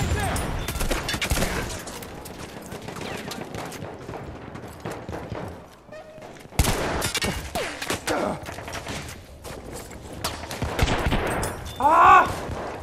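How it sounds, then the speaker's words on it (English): Battlefield 1 combat brings rapid machine gun fire and scattered gunshots, loud and dense, with a brief lull midway before the firing resumes, and voices now and then. "Machine gun right there."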